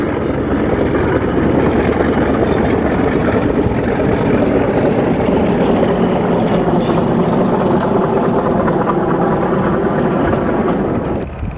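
British Rail Class 40 diesel locomotive 40052 departing Skipton with empty coaching stock in April 1982. Its deep engine roar is loud and steady throughout, then cuts off at the very end.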